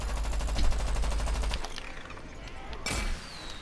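Rapid Gatling gun fire in a video game, a dense rattling burst for the first second and a half, then a short second burst near the end with quieter game noise between.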